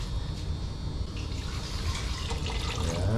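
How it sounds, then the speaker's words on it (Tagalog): Water pours from a tap into a cooking pot holding softened tomatoes, a continuous close splashing and gurgling stream that carries on for a few seconds without talk. "Lagyan po muna natin ng tubig."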